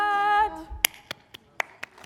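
A lone person claps a few scattered times at a coding session, sharp isolated claps spaced irregularly after a brief spoken word.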